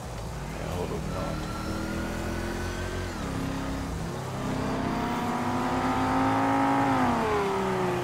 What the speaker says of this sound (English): His car sound nice.